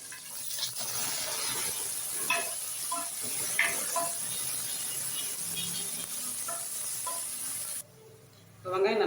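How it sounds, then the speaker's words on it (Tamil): Sliced medium onions sauté in a pan for mutton kuzhambu, a soft continuous hiss broken by light clicks of stirring, dropping away briefly near the end. "வெங்காயம் நல்லா வதக்கி வரட்டும்"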